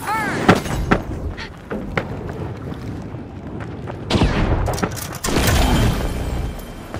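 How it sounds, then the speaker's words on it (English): Frag grenade explosion in the shooter game The Finals, a heavy boom among repeated gunfire bursts and thuds, with loud blasts near the end and brief voice callouts mixed in. "Tossing a frag! Frag grenade out!"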